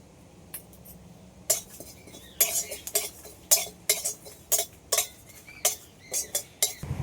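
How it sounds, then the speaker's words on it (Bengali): A metal spatula repeatedly scrapes and clinks against an empty dry wok while roasting dried red chillies and cumin, in uneven strokes, close and crisp, with no sizzle or talking. "এগুলো খালি কড়াইতেই ভেজে নেব"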